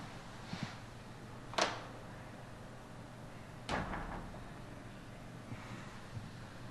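Two sharp door thuds ring out against quiet room tone, one early and one midway, with fainter shuffles and soft knocks around them and no talk.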